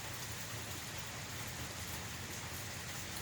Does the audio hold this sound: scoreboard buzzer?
no